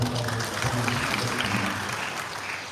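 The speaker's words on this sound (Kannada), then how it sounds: "ಈ ಸಭೆಯ ಮೂಲಕ ನಿಮ್ಮೆಲ್ಲರ ಚಪ್ಪಾಳೆ" A seated audience at a public meeting in Hassan applauds steadily, a dense, continuous wash of many hands clapping that holds at an even level for a few seconds before easing slightly.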